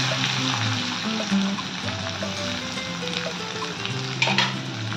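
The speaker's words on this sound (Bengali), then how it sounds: "পেঁয়াজটাকে হালকা করে ভেজে নেব" Onions fry in hot oil with cumin seeds in a wok, a dense continuous sizzle with faint stirring and a few scrapes near the end.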